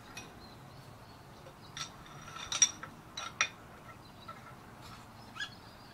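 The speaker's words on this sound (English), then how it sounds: "Pull our bolt out." Rifle bolt drawn out of its action during cleaning: a few faint, sharp metallic clicks and slides, spread over a quiet room background with low rumble.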